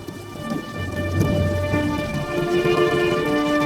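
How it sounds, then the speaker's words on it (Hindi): A sudden nighttime thunderstorm with heavy rain beats down over a home courtyard, a loud, dense hiss of rainfall with deep rumbling thunder underneath that builds and holds steady, with no voices. "रात में अचानक तूफान और बारिश शुरू हो गई।"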